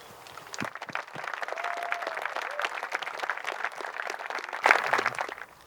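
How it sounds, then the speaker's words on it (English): A crowd applauds runners of a peace officers memorial run at an outdoor gathering, a dense burst of clapping swelling over a few seconds before fading, with some faint voices mixed in. "I just want to give you guys a huge hand of applause as you continue your way tomorrow to Ottawa"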